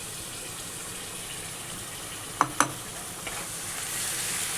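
A paste of yogurt with cumin and coriander powder goes into oil already seasoned with Kashmiri chili powder and turmeric, giving a soft, steady frying sizzle broken by two sharp utensil clinks midway.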